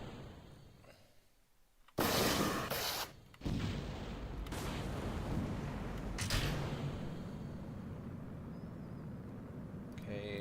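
Rocket engine firing in Kerbal Space Program with the RP-1 mod: a sudden loud, broad roaring rush kicks in after a quiet start, briefly dips, then sustains as a steady dense rumble to the end.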